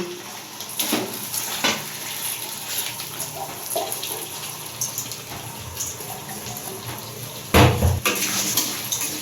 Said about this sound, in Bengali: সুন্দর করে চালটাও আমি কষিয়ে নেব।